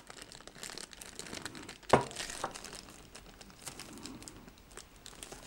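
A crinkly plastic bag packed around a microphone bundle is handled up close, crackling steadily with a sharp, loud rustle near two seconds, then continuing in softer crinkles.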